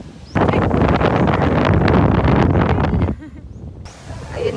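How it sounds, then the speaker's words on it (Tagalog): Strong beach wind buffets the microphone at Bulabog Beach, a loud rushing roar that dominates most of the clip before dropping away near the end. "Ang hangin."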